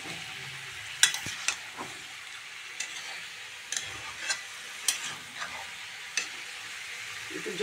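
Mixed vegetable curry with chili powder sizzling softly in a pan, with intermittent scraping and clinking stirring strokes over a low continuous fry, no talking.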